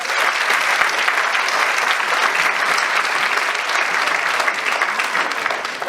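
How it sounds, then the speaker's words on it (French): Steady, full crowd applause at a live open-mic event in Provence, many hands clapping together in a loud, unbroken wash that lasts the whole stretch. "On peut les applaudir,"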